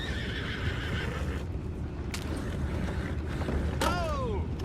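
A horse whinnies in a Red Dead Redemption 2 game scene, a short bright neigh rising late over a steady dense background of ambient noise, with a brief earlier sharp sound.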